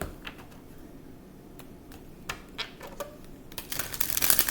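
Tarot cards being shuffled up close: scattered crisp flicks and riffles, growing into a denser, louder shuffle toward the end.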